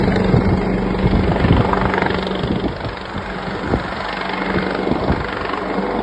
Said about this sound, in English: they're waiting for a helicopter